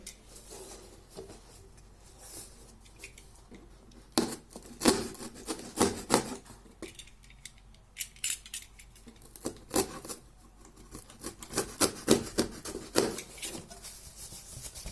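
A cardboard lid for a frying pan being pierced to make a hole, heard as scattered scraping and rubbing bursts that grow busier toward the end, close by with no talking.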